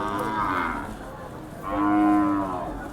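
Khillar bull mooing at a cattle market in Sangola, two long, loud, drawn-out calls in close succession with a short pause between them.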